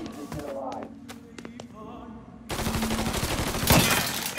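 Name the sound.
gunshots in the video game Mafia 3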